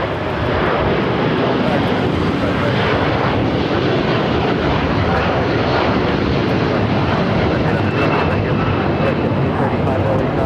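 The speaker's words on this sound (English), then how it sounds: "Latam A330 now rolling down the 25 right." A LATAM Airbus A330 roars down runway 25 right at LAX on its takeoff roll, a loud, steady broadband jet rumble that holds for the full ten seconds with slight swells.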